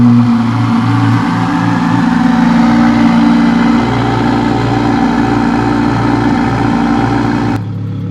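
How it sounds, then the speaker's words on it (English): A twin-turbo Audi R8 engine fires up from cold and settles into a loud, high, steady idle with a slight waver in pitch, then cuts off abruptly at the end, heard close with no talking. "We're gonna do a cold start."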